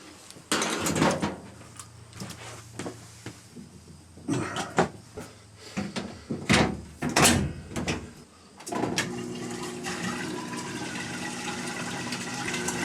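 A GE unitized electric washing machine starts a cycle: scattered clunks, knocks and clattering give way to a steady, louder rush of water filling and churning that continues to the end.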